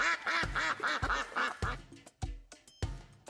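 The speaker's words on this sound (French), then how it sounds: "Des canards en caoutchouc attaquent notre copine Roxy" Rubber ducks let out a quick run of squeaky, rhythmic quacks, loud and close, that breaks into sharper separate honks toward the end. No one talks over them.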